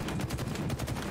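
Continuous rapid gunfire in the Halo Infinite video game, a dense, loud stream of shots with steady rhythm and no pauses, filling the whole moment without any voices.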